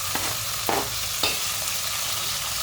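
Spice paste and tomatoes frying in a pan for a fish curry, a steady sizzle running throughout with a few sharp scraping stirs of a spoon against the pan.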